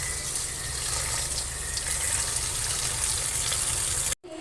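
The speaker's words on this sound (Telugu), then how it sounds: "ఫస్ట్ ఇలా వాష్ చేసేసుకోవాలి నీట్గా" Fenugreek leaves are washed in a steady stream of water, with a continuous close splashing and gushing like a running tap that stops abruptly near the end.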